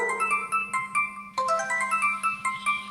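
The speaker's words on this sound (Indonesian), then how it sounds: "Telepon masuk." A phone ringtone for an incoming call plays a bright, repeating electronic melody of short tonal notes over a steady low hum, close and fairly loud, with no speech.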